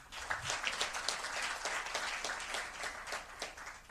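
Quiet, distant clapping fills the room at a formal NMB Bank annual financial results event in Tanzania, an even patter that stays at a low level throughout.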